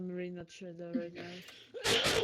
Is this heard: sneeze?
yes